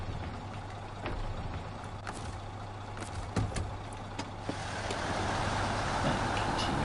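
A truck engine idles and rumbles low and steady in SnowRunner, with a few clicks and knocks along the way and a rising broadband roar as the vehicle pulls off near the end.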